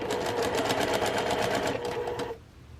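Sewing machine stitching the seam of a fabric face mask with an enclosed metal nose bridge: a rapid, steady mechanical chatter for about two seconds, then it stops abruptly. The sound is fairly quiet and close.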